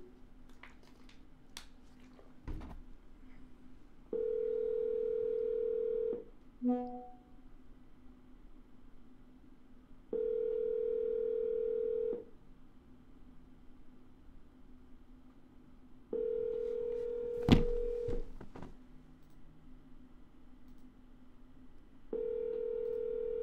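Ringback tones on a phone line during a call, with repeated steady two-second tones separated by pauses, plus a few clicks and a brief dialing blip.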